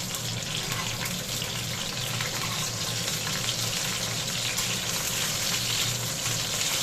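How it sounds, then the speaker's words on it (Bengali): Okra fries in hot oil, giving a steady, even sizzle that runs unbroken throughout at a moderate level, with no one talking. "এই যে ভেন্ডিগুলিকে ভেজে নিচ্ছি।"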